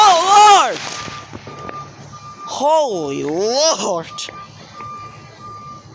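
A truck's reversing alarm sounds at a fireworks outing as a steady, evenly pulsed electronic beep. Loud rising and falling whistles cut across it, and a voice exclaims briefly.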